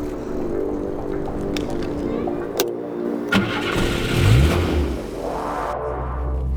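A car engine cranks and catches, with a brief click and thump before the motor turns over and settles into a close, mid-pitched running rumble that swells briefly before easing off.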